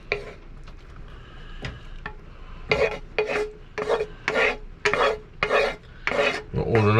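Liver, onions and pan juices scraped from a frying pan into a saucepan: a run of rough, rasping scrapes, first light and sparse, then about eight loud rhythmic strokes close by.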